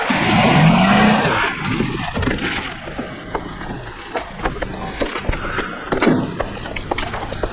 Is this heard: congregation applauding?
no